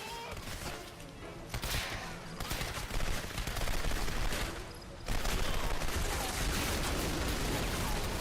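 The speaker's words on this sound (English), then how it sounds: "Oh man, big machine guns." Dense, continuous machine-gun fire and overlapping gunshots from a World War II–style shooter, Turning Point: Fall of Liberty, loud and sustained throughout with brief dips in intensity, forming a chaotic battlefield fusillade.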